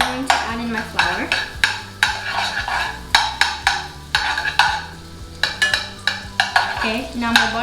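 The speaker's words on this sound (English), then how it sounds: "I'm going to melt the butter first." Butter melting in a pan for a lasagna sauce, with repeated stirring and scraping strokes against the pan over a soft sizzle, close and fairly loud, no talking.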